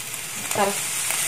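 Scrambled eggs fry in a hot pan while being stirred, a steady close sizzle with a brief scraping stir near the middle, no voices.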